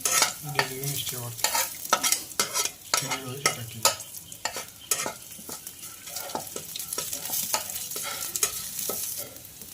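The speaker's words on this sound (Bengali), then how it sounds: "তো দেখো এটা ভাজা হচ্ছে, এখন একটু ভাজতে হবে যাতে একটু লাল লাল হয়" Cauliflower stems frying with garlic in a pan, with a close steady sizzle and frequent sharp scrapes and clinks of a spatula stirring against the pan, no voices.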